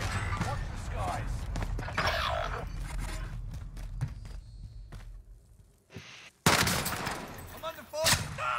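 Gunfire in a Call of Duty Warzone match, loud bursts of shots and impacts over game noise, with a brief near-silent gap before a sudden loud burst, a player's voice heard in places.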